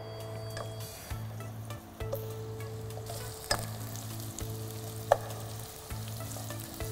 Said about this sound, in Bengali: আচ্ছা, একটু ভাজা ভাজা করবো, এর মধ্যে 2টা মরিচ ফালে দিয়ে দিচ্ছি।